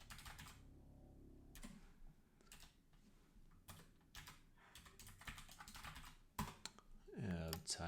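Keys clatter on a computer keyboard in quick bursts of typing with short pauses between them, close and fairly quiet.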